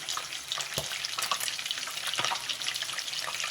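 Shahi jeera sizzles in butter just melted from the fridge and still watery, a steady crackling fry with sharp spits and pops and a few stirring knocks in the pan.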